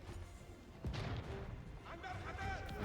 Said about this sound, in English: 4 bombards, if they're well protected, they'll rip through these fortresses pretty quickly